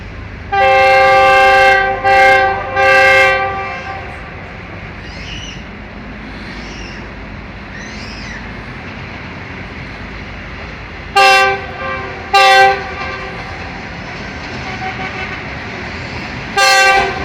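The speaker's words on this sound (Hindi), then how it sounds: "सामने से सफारी स्पेशल ट्रेन आ रही है G20 के साथ और इसी के साथ 11 अब हज़ारा एक्सप्रेस भी आ रही है" Two passenger trains, the Safari Special and the Hazara Express, crossing on a double line at Nur Junction railway station, with loud blaring horn blasts in several bursts over a steady rumbling roar of passing rail cars.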